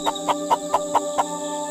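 A chicken gives six evenly spaced, clipped clucks in quick succession, close and clear against a steady tonal background.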